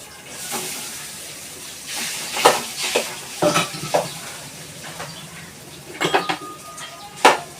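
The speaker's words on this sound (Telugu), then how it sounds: "అన్నం అంతా పసుపు అయ్యేటట్టు బాగా కలుపుకోవాలి" Hot rice being mixed with fried chana dal and turmeric in a pan, with repeated metallic clanks and scrapes of a spoon against the pan over a light sizzle. Close, busy and irregular, with no voices.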